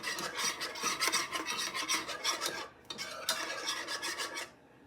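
A whisk scrapes rhythmically through sauce in a casserole dish for a keto Tuscan garlic chicken casserole, steady rasping strokes with a brief pause midway before stopping near the end; no voices.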